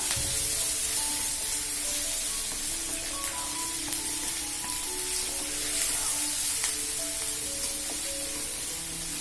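Onions frying in oil in a pan, a steady, even sizzle that runs unbroken for the whole stretch, with soft tonal music playing underneath.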